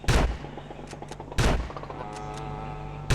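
Two loud shotgun blasts in the GTA game, one at the start and another near the middle, with a third beginning at the end, each over a steady low game hum.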